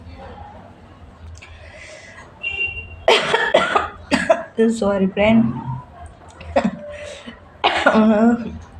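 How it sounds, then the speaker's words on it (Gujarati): Several loud, close coughs in bursts, mixed with throat clearing and a person briefly speaking. "થોડી ખાંસી થઈ ગઈ છે મને"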